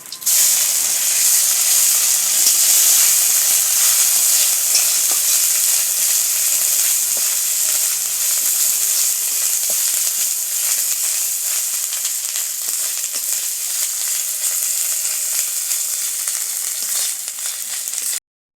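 Ginger paste sizzles in hot oil with whole cumin and bay leaves for a wedding-style vegetable dal: a steady, loud, close frying hiss that runs unbroken for the whole stretch, with no voices.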